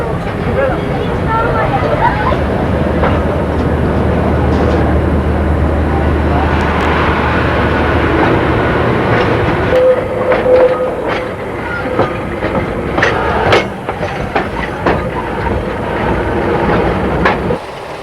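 A train rumbles steadily along the rails in Central Otago, New Zealand, in 1990, with a low continuous drone and intermittent clicks, people talking faintly over the running noise.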